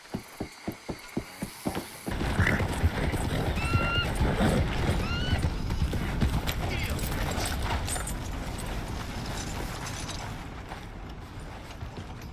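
Horse hooves clip-clop in a video game with a short, steady run of hoofbeats over about two seconds, then give way to a continuous wash of game ambience and music with a brief whinny-like call.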